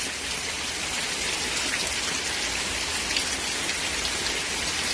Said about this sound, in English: This rain will make the grass grow.